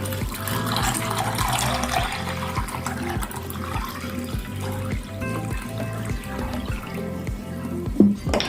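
Water poured over chickpeas in a bowl to soak them: a continuous, close splashing and trickling stream filling the container, steady throughout and ending with a small knock.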